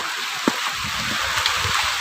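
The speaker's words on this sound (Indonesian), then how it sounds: "Dan perjalanan ini diguyur hujan bosku." Rain falls steadily during a mountain hike on Gunung Bongkok in Ciamis, a continuous soft hiss with one brief dull knock near the start and no voices.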